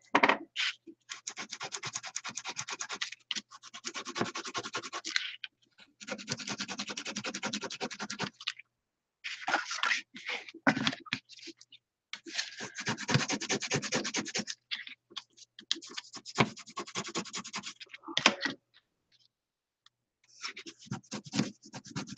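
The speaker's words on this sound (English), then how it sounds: "So just rubbing down these hard just to make sure that I have those creases in." Hands rub hard over recycled cardboard packaging to press in creases, making close, scratchy rubbing strokes in several long bursts separated by short pauses, with no talking.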